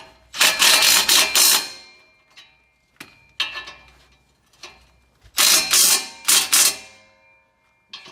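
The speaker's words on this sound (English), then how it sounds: "Go back and tighten this one down." A ratchet wrench tightening bolts on an MBRP aftermarket exhaust, with bursts of rapid metallic clicking, two long runs separated by shorter strokes and short pauses, heard up close.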